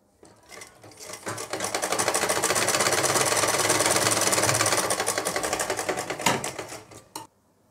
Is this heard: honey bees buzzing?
no